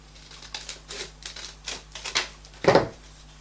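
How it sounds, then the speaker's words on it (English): Scissors cutting printed paper journal tags in a series of short, crisp snips, close and quiet, ending in one louder crunch. "So I'm going to cut them out."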